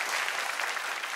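A studio audience on a television comedy show applauding a team, a short burst of dense, even clapping with no gaps.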